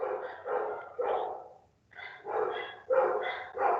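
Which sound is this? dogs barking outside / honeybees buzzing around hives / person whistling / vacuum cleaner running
dogs barking outside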